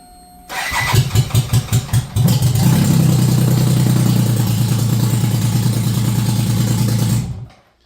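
A BMW K75 motorcycle engine on choke cranks with a string of rapid starter pulses, catches, and settles into a loud, steady, close idle for several seconds before cutting off abruptly.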